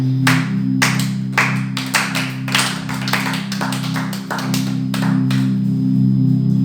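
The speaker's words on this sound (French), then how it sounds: "Est-ce qu'on peut acclamer pour cette parole?" Church congregation clapping during a sermon: a steady run of close, sharp handclaps coming in uneven bursts over a sustained musical drone, with no distinct cheering voices standing out.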